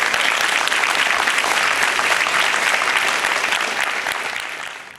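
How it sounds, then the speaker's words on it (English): Loud, dense applause from an audience at a community center reopening ceremony for the Public Works Department, sustained and even throughout before trailing off at the end. "So please give our Public Works Department a big round of applause."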